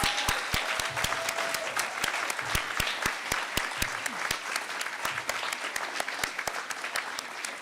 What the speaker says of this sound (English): So we'll have one more round of applause for every single person who's come up here and spoken tonight and given out an award.